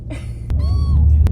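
A two-and-a-half-month-old kitten at a vet visit lets out a short, close, high meow over low background rumble, bracketed by a couple of sharp clicks.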